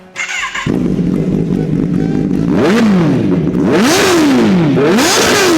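A loud Kawasaki Ninja ZX-10R motorcycle with an SC-Project aftermarket exhaust idles harshly and raspily, then revs sharply several times, rising and falling in quick bursts, close by.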